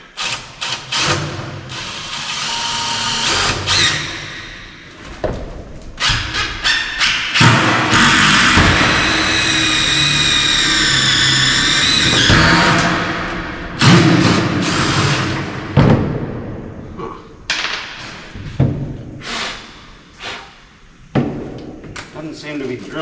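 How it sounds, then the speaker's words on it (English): Power drill driving into a second-floor tongue-and-groove subfloor in a barndominium, bursts of loud grinding whine struggling against a hard spot, mixed with heavy thumps and knocks, with a person talking between bursts. "Doesn't seem to be drilling very well."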